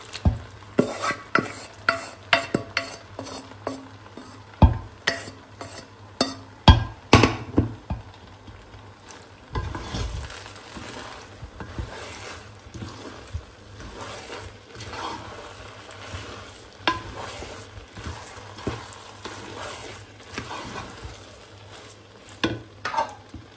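Biryani meat stirred into half-cooked rice in a pot: repeated clattering spoon strikes and scraping against the pot over a low bubbling sizzle, busier at first, then settling into softer steady stirring.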